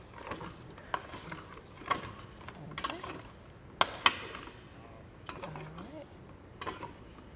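Blueberry pie filling stirred in a pot for a crumble pie, soft scraping and occasional sharp spoon clinks against the pot over a low simmering hiss, close and fairly quiet.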